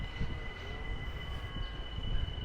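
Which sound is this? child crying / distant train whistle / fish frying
distant train whistle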